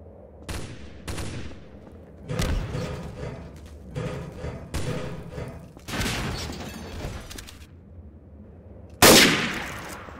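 Repeated bursts of gunfire in the video game Trouble in Terrorist Town, several separate volleys and rapid automatic strings across the span, ending in one loud close blast that trails off.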